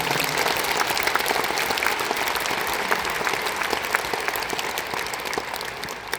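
An audience at a Buddhist monk's poetry sermon applauds with dense, continuous clapping that stays loud and even, then fades slightly near the end.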